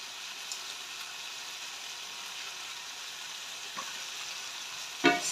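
A pot of fish stew simmering with a steady, close bubbling sizzle while being stirred, ending in a sharp scrape or clatter of the spoon against the pot.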